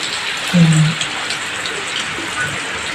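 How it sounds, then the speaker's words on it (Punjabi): Monsoon rain falling steadily on surfaces, a dense continuous patter heard close, with a brief low thump near the start and no talking. "ਬਰਸਾਤਾਂ ਹੋ ਗਈਆਂ ਨੇ ਸ਼ੁਰੂ"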